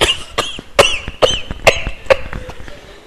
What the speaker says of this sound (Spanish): ¿Tienen tos?